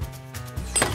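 Salad ingredients chopped with a knife on a board in a kitchen cooking contest, a few quick thuds in under a second.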